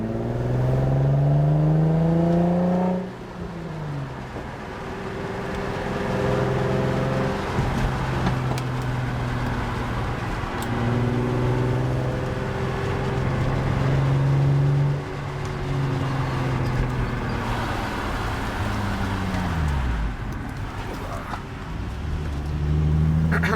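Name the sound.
Nissan 350Z accelerating in second gear pull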